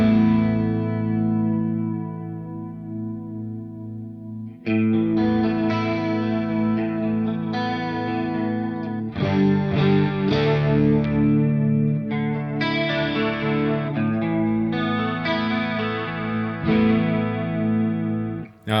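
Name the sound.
chorus vibrato pedal with lag engaged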